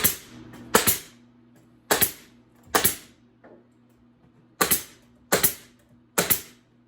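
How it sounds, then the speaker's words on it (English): Brad nailer driving brads into a wooden swarm trap box for bees, six sharp snapping pneumatic shots in uneven pairs and singles, close and loud, with a steady low hum between. "Put the brads in there to hold it."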